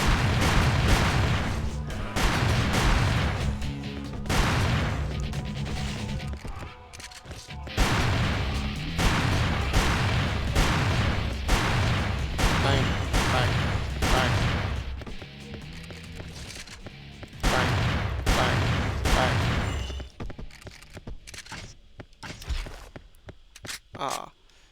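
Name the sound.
shotgun blasts in the video game Hunter: The Reckoning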